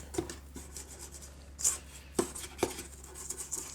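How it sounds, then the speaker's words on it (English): Wooden spoon scraping sandy vegan, gluten-free thumbprint cookie dough in a bowl, a few soft rasping strokes separated by short pauses, quiet and close. "We're going to use this wooden spoon and just scrape up."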